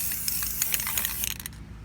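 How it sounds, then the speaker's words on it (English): Rust-Oleum metallic bright coat spray paint hisses from an aerosol can in short bursts on a truck upgrade, close and fairly loud, with a few clicks and rattles as the spraying stops. "So let's go ahead and start spraying."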